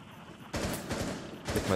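Bursts of rapid gunfire in the video game Rainbow Six Siege crackle in two quick volleys after a quiet start, sharp and close, shots inside a house.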